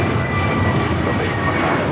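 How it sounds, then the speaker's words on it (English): An American Airlines A321neo roars down the runway on takeoff at LAX, a loud, steady broadband jet rumble with a faint whine, filling the moment without pause. "This takeoff is American Airlines 738 taking off to Philadelphia on the A321neo."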